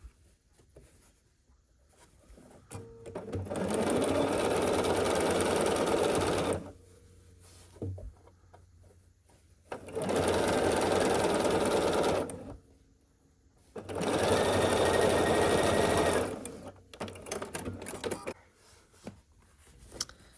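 A sewing machine stitches a quilt block in three distinct bursts of rapid, buzzing whirring, each several seconds long, separated by quiet pauses with faint handling noises.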